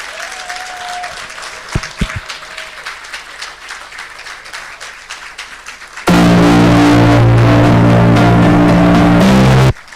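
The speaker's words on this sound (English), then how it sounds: "And we continue to give him a round of applause." Applause from a wedding audience at a Nigerian solemnization of holy matrimony, a textured patter of clapping through the first six seconds before a loud, dense burst of music or noise abruptly takes over the rest.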